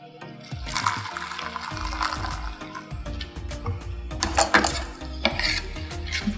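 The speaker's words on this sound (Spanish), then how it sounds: "Y ahora con un poquito de agua caliente" Hot water poured from a container into a dyeing mix for yarn, a steady splashing fill over several seconds with clinks of dishes and utensils and a short tail of pouring.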